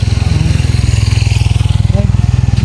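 A motorcycle engine idling close by, a loud rapid regular pulsing putter that holds steady throughout, with a voice talking over it.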